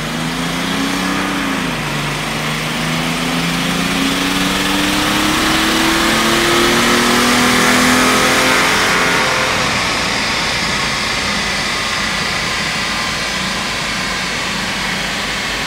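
A Mercedes W210 E300td diesel with a 7.7mm EDC pump accelerates hard on a dyno, loud engine note climbing steadily in pitch, dipping at a gear change, then a sustained roar as the run continues.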